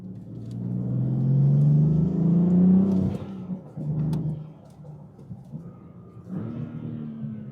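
A 600 whp BMW M4 F82 gives off a deep, loud engine rumble that swells and falls for about three seconds. Shorter, softer revs follow, then a brief rise near the end.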